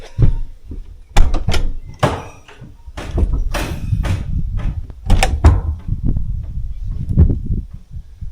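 Several heavy van back-door thunks and latch clunks, opening and shutting close by, with rustling and handling noises in between.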